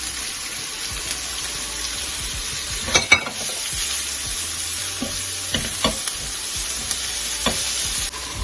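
Chopped onions sauté in hot oil with green chilies and garlic, giving a continuous even sizzle with occasional utensil knocks and stirring scrapes, close and steady throughout.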